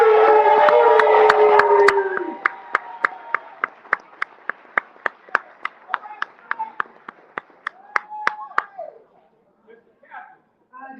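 Brief burst of applause at a Detroit City Chess Club award ceremony held at the Detroit Institute of Art, followed by a series of sharp, evenly spaced single claps and background voices before fading out.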